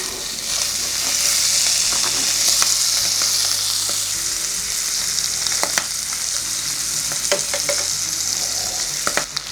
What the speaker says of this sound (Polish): mamy nasz boczek pokrojony w kostkę i obsmażamy go na patelni